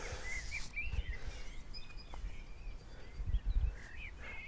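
Songbird chirps and short whistled phrases sound at a moderate distance, scattered across the moment over a low background rumble, with no one speaking.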